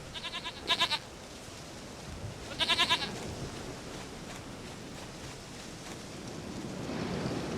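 Two short, stuttering goat bleats from The Witcher 3, at moderate volume and a moment apart, over a soft windy outdoor ambience.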